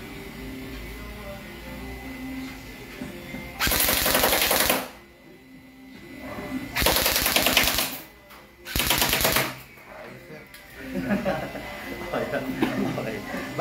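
An airsoft M4A1 CQB carbine fires on rapid fire in three loud, close bursts of fast rattling shots, each about a second long, separated by quieter gaps with background noise.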